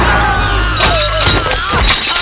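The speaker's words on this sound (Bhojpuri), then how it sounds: "अरे गोधन साइकिल टूट गई रे।" A bicycle crashes and breaks apart in a Bhojpuri comedy film scene: a loud shattering, clattering smash with several sharp crunching hits over about two seconds, set against a busy background.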